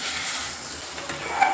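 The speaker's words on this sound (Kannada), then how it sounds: "ಚೆನ್ನಾಗಿ ತಿರ್ಸುವ" Green gram stir-fry (palya) is stirred in oil in a pan, giving a soft continuous sizzle with light scraping, close and fairly quiet.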